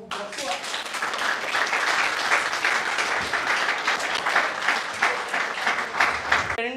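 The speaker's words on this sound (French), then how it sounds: "Applaudissez pour vous" Studio audience at a televised children's eloquence competition applauds steadily, dense continuous clapping filling the room from start to finish, with some voices mixed in.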